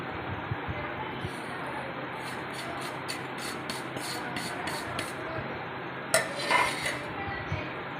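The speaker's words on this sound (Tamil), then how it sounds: "நல்லா மிக்ஸ் பண்ணிக்கோங்க." Wheat flour with salt, turmeric and cumin being stirred in a bowl, giving soft repeated scraping and rubbing, with a sharper clink of utensil against the dish near the end.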